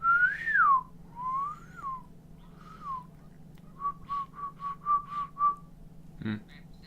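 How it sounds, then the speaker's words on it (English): A person whistles a series of short tonal notes, a few sliding phrases followed by a quick run of repeated pitches, fairly close and alone over a low background hum. "I apologize for the whistling."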